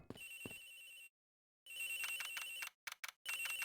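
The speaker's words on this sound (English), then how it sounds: "The ringing's coming from somewhere here, sir." Bursts of a shrill electronic phone ring from the Ace Attorney Investigations: Miles Edgeworth game repeat with brief silent pauses, faint but clear and free of any talking.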